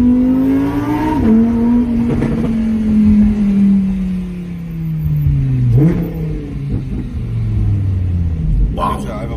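Car engine rumbling and revving as it pulls away and accelerates through a neighbourhood in Buxtehude, a steady loud drone rising and falling in pitch, with people talking over it inside the car.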